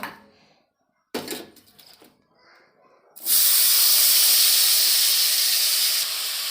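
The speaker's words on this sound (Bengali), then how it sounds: "আলু আমি ভেজে নেব" A few clanks and clatters, then a sudden loud sizzle as potatoes hit hot oil in a karahi, the frying hiss continuing steadily to the end.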